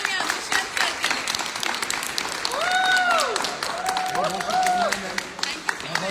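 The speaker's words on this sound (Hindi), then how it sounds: "जोरदार तालियां दुष्यंत सर के लिए।" A crowd at a gathering claps loudly to welcome Dushyant sir, a continuous wash of applause beneath a speaker's voice that sounds over the clapping throughout.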